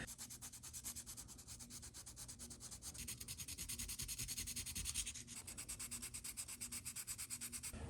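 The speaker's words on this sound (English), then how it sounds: "Now it is time for sanding." Steady rhythmic sanding, a close scratchy rasp of sandpaper rubbed back and forth over a carved wooden 10-inch glidebait fishing lure, continuing without pause.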